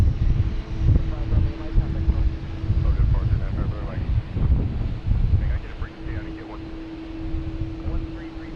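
A Spirit Airlines airliner at Boston's Logan Airport makes a continuous low engine roar with a steady hum, heard at a distance under wind buffeting on the microphone and someone talking.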